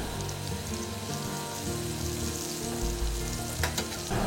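Seasoned red mullet fillets fry in a pan with a steady, close sizzle and crackle that holds for a few seconds, with a few sharper pops near the end.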